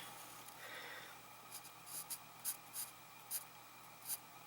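Pencil sketching hair strokes onto paper for a wood spirit carving pattern, a quiet scratchy rub followed by several short, separate strokes close up.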